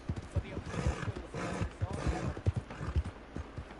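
A horse's hooves clip-clop in a steady walking rhythm, moderately close, under people talking.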